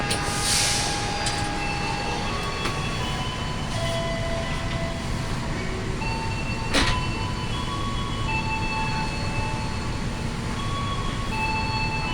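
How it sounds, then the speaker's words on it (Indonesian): The Progo passenger train departs Kroya station, rumbling steadily with a broad mechanical roar, occasional metallic squeals and clanks, as carriages start moving out; no voices. "kereta api mulai diberangkatkan kembali dari stasiun Kroya"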